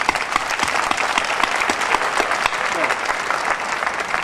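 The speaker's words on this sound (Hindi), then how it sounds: "अगर तालियां बजाना है तो खुल के," An audience at a college function in Nagpur claps loudly and continuously throughout, a dense, even roar of applause from a large crowd.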